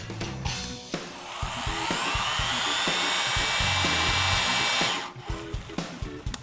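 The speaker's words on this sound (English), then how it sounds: "When the gun senses the 450 foot-pounds of torque, it'll shut off automatically." A torque gun set to 450 foot-pounds tightens a structural bolt, giving a loud steady whine for about three seconds before it shuts off automatically, with metallic clanks before and after.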